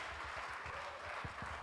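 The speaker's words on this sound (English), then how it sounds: "Can we have another big round of applause for Rishik" A short stretch of audience applause at a medical simulation conference, a dense wash of clapping with low murmur beneath.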